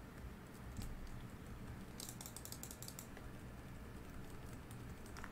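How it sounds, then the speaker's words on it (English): Computer keyboard typing during a Roblox YouTube Simulator game session, a steady patter of soft clicks that runs through the clip at moderate level, with a brighter burst of rapid keystrokes in the middle. "Sorry about the clicking if you guys can hear that."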